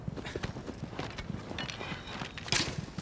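Horse hooves in the Shadow of the Colossus remake video game clip-clop in a steady, brisk gallop rhythm, close and continuous, with a brief louder scrape near the end.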